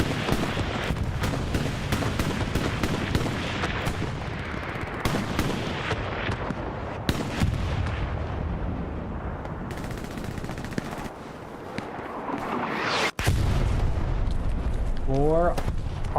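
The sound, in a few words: artillery shells exploding in a video game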